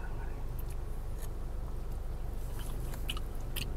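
Close, crisp bites and chewing of fried vegetables with cabbage in peanut sauce, a kecombrang pecel from a street stall in Bintaro, with sharp crunchy clicks over a steady low background hum.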